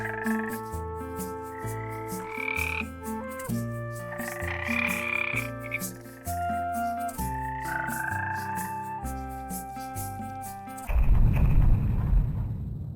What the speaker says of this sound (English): you can even play music with the little frogs